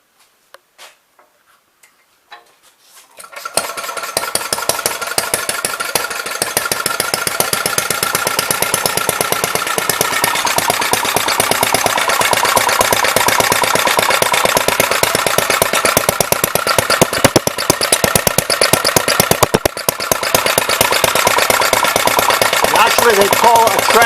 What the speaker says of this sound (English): they call it a transparent engine because you can see the blue flame, which is it firing